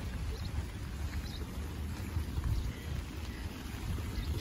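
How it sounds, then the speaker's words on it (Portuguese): Heavy rain pours steadily outdoors near a church in Green Bay, Wisconsin, a dense, continuous hiss and patter with a low rumbling undertone, no voices. "Chovendo bastante."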